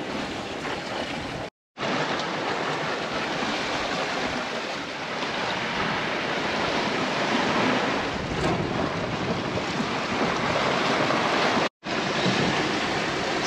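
Ocean waves wash steadily around a sailboat at sea on a solo passage, a loud continuous rush mixed with wind buffeting the microphone, with two brief cuts to silence.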